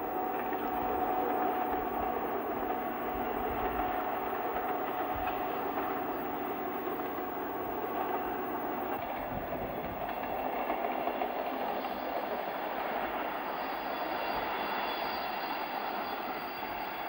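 An RGP railcar runs along the Cévenol mountain line in France, a steady, continuous rumble of the moving train with faint rail clatter and cabin noise holding at an even level throughout, with no talk.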